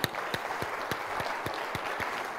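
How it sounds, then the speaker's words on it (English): A conference keynote audience gives a round of applause, heard as a light, fairly distant patter of claps with a few sharper individual claps standing out above it. "Let's give a big round of applause to Sean and Missy."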